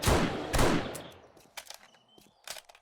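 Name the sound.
marksman rifle gunshots in 7 Days To Die video game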